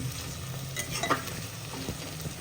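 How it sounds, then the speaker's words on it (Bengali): Onion and tomato base for a Bengali mutton curry frying over raised flame, a steady close sizzle with a few soft stirring scrapes, no voices. "এবার এটা আমরা হালকা ব্রাউন হওয়া পর্যন্ত এটাকে ভাজবো।"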